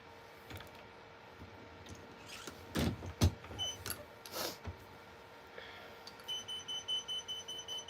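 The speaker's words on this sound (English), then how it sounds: "I need to turn that stupid beeping off, like it's annoying" A high electronic beep repeats in a steady series toward the end, over a low mechanical hum and a few thumps, with no voices.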